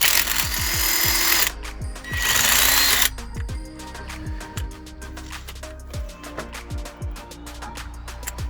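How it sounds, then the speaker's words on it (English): A hand ratchet works loose the 14mm prop shaft bolts on a Mazda MX5 from underneath, with rapid pawl clicking in quick bursts, close and fairly loud, broken by short bursts of a higher whirring mechanism. "I'm just going to release those bolts now"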